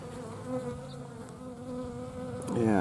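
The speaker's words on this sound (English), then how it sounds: "you can see the bees are getting a little irritated with me" Irritated honey bees swarm and drone around an opened hive worked without a smoker, a steady close buzzing that thickens and grows louder toward the end.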